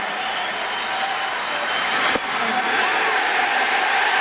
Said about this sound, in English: the crowd is going to erupt with every strike